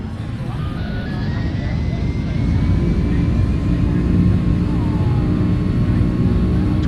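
Delta Boeing 767-300 rolling for takeoff, its jet engines a loud, steady roar inside the cabin, rising slightly as the aircraft accelerates, with a faint whine threading through the rumble.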